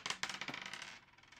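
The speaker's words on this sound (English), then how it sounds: "We'll roll the dice for what box?" Dice tumble and clatter across a hard surface during a hockey memorabilia box break, a quick burst of bright rattling clicks that fades out within a second, fairly quiet and close.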